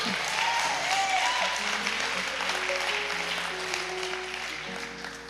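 A church congregation applauds and cheers in a large hall, a dense wash of clapping with scattered shouts and voices that fades slightly toward the end.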